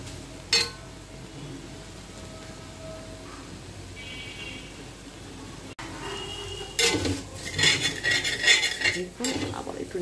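Potato and flat bean bharta with coriander leaves is stirred on a tawa, starting with quiet scattered clinks and a faint sizzle, then ending in a run of loud scraping and rattling strokes.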